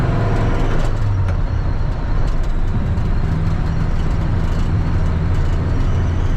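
Engine of a 1961 Ford F100 Stepside pickup with a three-on-the-tree manual, idling steadily and evenly, a loud continuous low rumble throughout with no talk.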